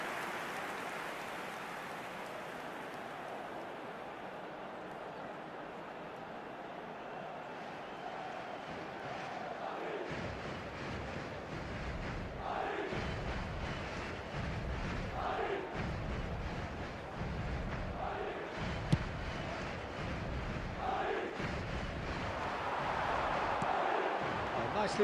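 Football stadium crowd applauding a near-miss shot, a broad wash of clapping and cheering that swells after the first few seconds and keeps up steadily, heard from a distance.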